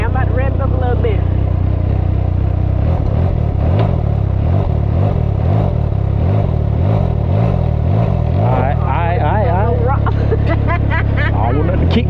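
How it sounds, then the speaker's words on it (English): A 2021 Can-Am Ryker Rally with a new aftermarket exhaust rumbles loudly up close, its engine pulsing in a throbbing idle and revving up, while someone talks over it. "I'm about to rev it up a little bit."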